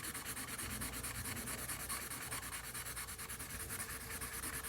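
A blending stump rubs charcoal across paper in a steady, close, scratchy swish of quick repeated strokes, heard alone.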